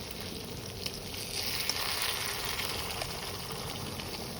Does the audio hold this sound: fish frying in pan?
yes